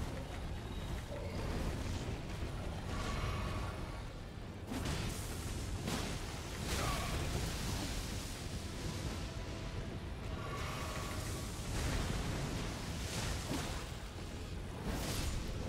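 Fire breath from the ancient dragon Lansseax in Elden Ring, a broad roaring whoosh that swells and fades in repeated waves over a rumbling game soundscape, no talk.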